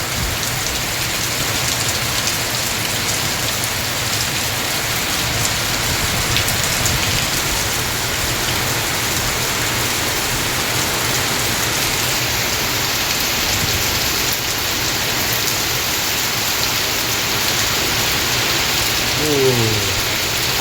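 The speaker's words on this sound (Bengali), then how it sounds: "বৃষ্টি হচ্ছে হাওয়াও ছেড়েছে হালকা হালকা ঝড় মতন উঠেছে বৃষ্টির সঙ্গে" Heavy rain pours steadily in Malaysia, a dense continuous wash of drops with gusting wind and a light storm building, loud and unbroken throughout.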